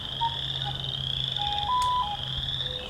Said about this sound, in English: the sort of growling call of the wood frog